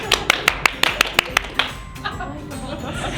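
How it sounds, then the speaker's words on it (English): A softball team claps in unison on a count of three, about nine sharp, evenly spaced claps that speed up slightly, then scattered chuckles and low chatter. "All right, everybody on 3 clap."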